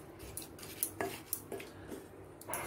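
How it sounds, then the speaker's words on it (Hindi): A spoon mixes ground carom seeds and poppy seeds into a chili pickle, giving soft scraping and a few light clinks of metal against the bowl, quiet and close with no talk. "फिर मैं ये जो अजवाइन और खसखस को डस्ट किए थे वो डाल दूंगी सारा, एक बार इसे मिला लेते हैं।"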